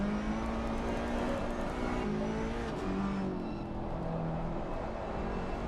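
Ferrari race car in a racing video game at Misano, its engine revving hard and steadily throughout, loud and close with rising and falling pitch as it accelerates and shifts.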